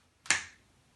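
A single sharp finger snap, crisp and close, standing alone in near silence with a short decaying tail.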